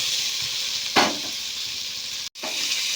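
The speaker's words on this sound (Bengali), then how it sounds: "এবারে আমি আমলকিটাকে ধিমে আঁচে একটু ভাজবো।" A steady sizzle of amla (Indian gooseberries) frying in oil over low heat, with a brief louder stirring scrape early on and a momentary dropout near the end.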